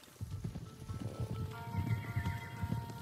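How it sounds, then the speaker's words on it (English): Horses gallop with steady overlapping hoofbeats in Ghost of Tsushima, a continuous thudding rhythm with music or ambience layered on top, moderately loud and close. "Horses, they're coming for us."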